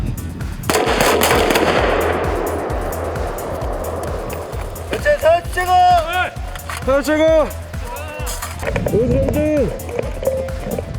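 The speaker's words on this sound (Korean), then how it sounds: "목표물이 눈에 들어오는 순간 호흡을 멈추고 방아쇠를 당깁니다" Gunfire from a South Korean Army 11th Airborne Special Forces Brigade maneuver shooting drill: one loud, sharp blast rings out, followed by shouted voices and further bursts of activity nearby.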